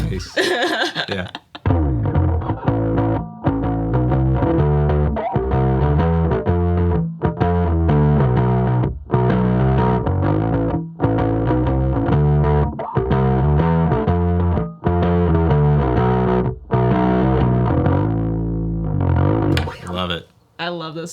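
Bass guitar played through an HX Stomp with a Rat distortion model, a gritty, chorus-tinged line of steady notes that runs continuously and loudly, with brief talk near the end.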